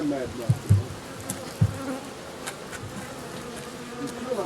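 Honey bees buzz on hive frames during an end-of-season hive inspection, with a continuous close drone. Several low knocks and handling thumps sound over it near the start.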